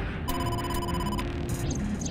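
A phone rings in the game AI: The Somnium Files, giving a bright electronic ring pattern with a few repeated bursts over quiet background sound.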